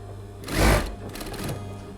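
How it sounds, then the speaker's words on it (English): A sewing machine stitches the edge of a halterneck dress collar down, a steady close whirring run that swells briefly in the middle, heard on its own with no voice. "we're going to be stitching this edge down onto the other edge"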